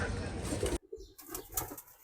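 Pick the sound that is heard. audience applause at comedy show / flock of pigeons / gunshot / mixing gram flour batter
flock of pigeons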